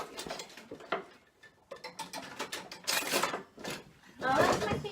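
A whisk beats keto zucchini bread batter in a bowl, quick irregular ticking and clinking strokes against the bowl, fairly faint and close, with talking in between.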